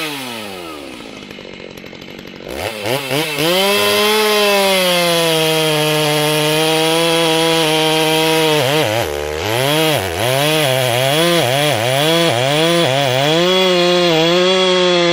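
Stihl MS-290 Farm Boss chainsaw converted to MS-390 spec, cutting wood: the engine revs up loud and close, holds a steady high-pitched whine through the cut, dips briefly midway, then surges again.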